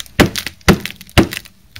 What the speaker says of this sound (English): I'm going to use the tape gun to put the bow on there